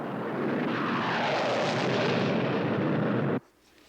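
Airplane in flight: a loud, steady broadband engine roar with no talk, holding level for over three seconds before cutting off abruptly into near silence.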